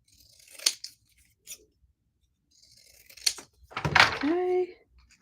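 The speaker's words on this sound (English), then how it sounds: "I'm going to cut this as straight as I can." Close scissors snip through scraps of paper card in a few separate sharp cuts spread across the moment, with a longer slicing stroke near the end and a voice speaking in between.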